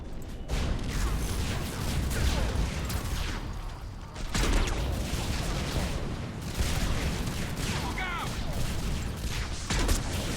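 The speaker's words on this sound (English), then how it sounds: "Yeah, I didn't see all the explosions, Garrus." Explosions and rapid gunfire from the video game Mass Effect 3 rumble and crackle continuously across a battlefield, with dense, loud bursts of noise throughout.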